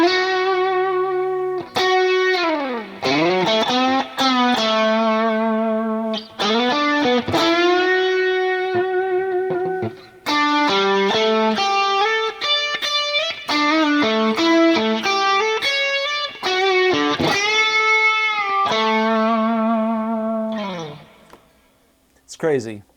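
The closing electric guitar solo from a song rings out as sustained, bending lead notes with effects, played in phrases separated by brief pauses, loud and alone.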